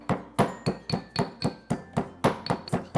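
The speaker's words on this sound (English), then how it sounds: "that's just going to help grind all of those wonderful aromatics" A mortar and pestle pounds ginger, garlic, chili and coriander with salt: about a dozen sharp, close knocks in a steady rhythm, each with a brief clinking ring, and no voices.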